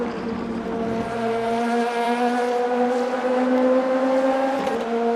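Race cars in the Le Mans Ultimate racing sim roar past in a steady, loud engine drone, with rising and shifting harmonic tones from several cars, continuous throughout with no talking.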